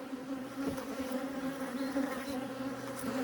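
A steady, dense buzzing of many honey bees close by at a hive, a continuous droning hum with no voices.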